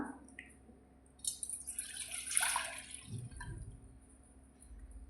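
Tamarind extract poured into a cooking pot in a home kitchen, a short liquid splash and trickle lasting a couple of seconds, fairly close, over a quiet background with a low thud afterward.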